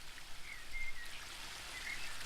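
Small spring brook trickling in a woodland realm in The Book of Unwritten Tales 2, a soft steady babble of running water with faint droplet sparkle, continuous and fairly quiet throughout.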